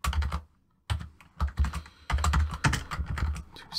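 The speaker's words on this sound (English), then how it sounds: "So we're going to type this all again" Someone types a command on a computer keyboard in quick, uneven bursts of close clicking keystrokes, with a short pause near the start and no speech.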